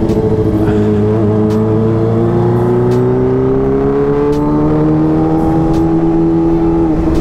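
A blue Kawasaki ZX25R 250cc motorcycle engine while riding through Kemang, a loud, close, steady high-revving whine whose pitch climbs slowly as it accelerates, with no talk over it.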